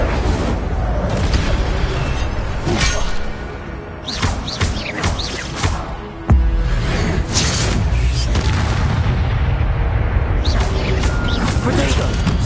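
Incendio fire spell blasts in Hogwarts Legacy: loud, continuous crackling and roaring bursts with booming impacts, a sharp hit near the middle, and dense magical effects layered over background game sound.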